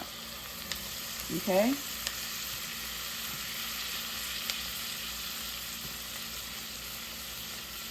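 Frozen vegetables and sliced sausage fry in a pan with a steady, fairly quiet sizzle throughout, while a person briefly speaks a single word near the start.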